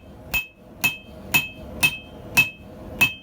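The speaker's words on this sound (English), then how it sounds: "now that I've started to really hammer, right away I can tell the difference between this and my usual anvils" Hammer blows land on hot steel resting on a cheap Acciaio anvil while a pair of tongs is forged, six evenly spaced, close strikes about half a second apart, each a short dull clank with little ring.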